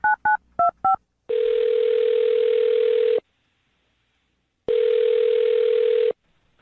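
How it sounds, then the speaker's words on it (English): Four quick touch-tone dialing beeps, then two long steady ringback tones separated by silence as a telephone call is placed, clear and close with no talking. "I'm dialing his phone number right now,"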